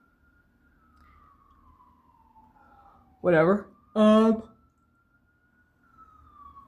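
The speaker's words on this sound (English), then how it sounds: "you guys can hear the sirens out my window" A distant siren outside a window wails steadily with a slowly falling pitch, while a nearby voice indoors speaks briefly over it.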